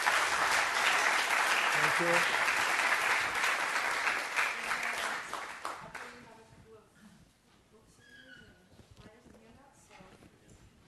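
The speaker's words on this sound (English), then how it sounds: "Let's give him one more round of applause," An audience at a talk event gives a round of applause, with dense, steady clapping that carries on for several seconds and then fades away as a voice speaks.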